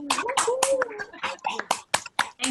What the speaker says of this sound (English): let's unmute ourselves and just give a big global clap for everyone who's been